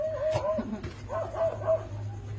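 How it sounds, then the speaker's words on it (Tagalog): A small dog yips and barks several times in quick bursts, somewhat distant and faint, against a low steady background hum. "maririnig niyo po tumatahol lang aso sa labas"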